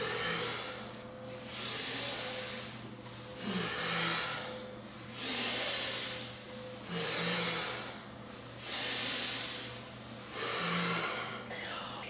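Slow, deep breaths during a full moon kundalini breathing exercise, long airy inhales and exhales in a steady rhythm of about six cycles, close to the microphone over a low steady hum.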